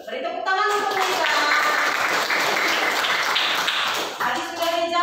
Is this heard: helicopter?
no